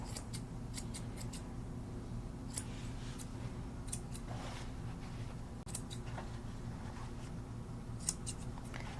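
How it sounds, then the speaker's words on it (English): Grooming scissors straight-cut a poodle's coat, giving crisp, sharp snips that come at irregular intervals over a low steady background hum. "And remove some of the length. Again, not beveling your scissor in any way, just straight cut."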